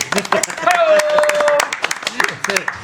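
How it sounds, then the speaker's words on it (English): A studio audience at the first pilot episode of a talk show breaks into clapping on cue, scattered claps rising under ongoing talk from a host. "now you can clap"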